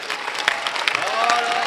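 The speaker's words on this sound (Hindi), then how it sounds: "आप लोग एक बार जोरदार तालियों से समर्थन" Applause rises from a crowd at a comic poetry gathering (kavi sammelan) in Banaras, a brisk, dense clatter of many hands with a few voices calling out over it.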